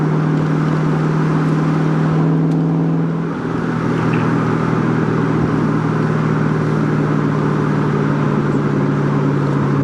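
Steady interior engine drone of a 2001 Ford Mustang Saleen cruising on a test drive, a constant low hum with road noise and a slight dip in load midway, no talking.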